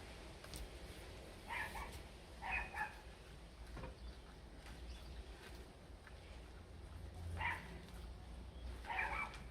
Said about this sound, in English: Dogs are gonna bark.